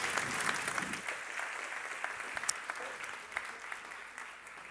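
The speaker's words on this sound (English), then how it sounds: "A round of applause." Audience applause at an education and skills livestream event, as a quiz team returns to their seats: steady, fairly soft clapping from a medium-sized crowd that continues throughout, with a few sharper claps standing out.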